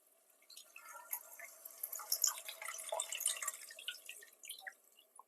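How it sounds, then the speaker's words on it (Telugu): Tamarind juice poured into a simmering fish curry, heard as a quiet, close run of drips and small liquid splashes with no talking. "చింతపండు పులుసు అయితే వేసుకుందాం"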